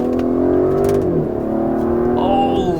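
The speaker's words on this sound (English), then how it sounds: "it revs up so fast and starts pulling so hard and so quickly that it does not feel like a turbo engine" A 2018 Aston Martin DB11 with a turbocharged engine accelerates hard, its loud engine note climbing steadily in pitch, dropping briefly at a shift near the one-second mark, then rising again.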